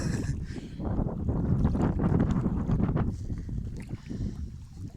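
Steady wind buffeting outdoors with a low rumbling roar and broadband gusts, close and continuous, with faint water movement underneath.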